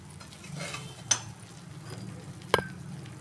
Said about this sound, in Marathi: ह्याच्यात आपल्याला थोडं पाणी पण ॲड करायचं आहे